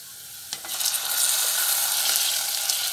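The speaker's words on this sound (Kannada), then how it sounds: "ಟೊಮೆಟೋ ಮತ್ತು ಉಳ್ಳಾಗಡ್ಡಿ ಸ್ವಲ್ಪ ಹೊತ್ತು ಫ್ರೈ ಮಾಡ್ಕೊಳ್ಳೋಣ" Chopped tomato and onion fry in a pan, the hiss swelling after a soft clink into a bright, steady sizzle with light stirring close by.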